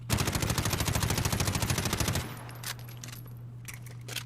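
MP5 submachine gun firing a rapid full-auto burst of evenly spaced, loud, close shots for about two seconds, then cutting off to quiet room tone with a few faint clicks and handling noises.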